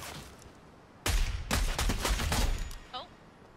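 Gunfire in the video game Fortnite: after a quiet start, a loud rapid burst of shots lasting about two seconds, ending with a brief fading tone.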